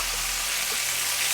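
Steady, close sizzle of ground lamb browning in a pan as it is broken apart, a dense continuous frying hiss with faint scraping, no voices.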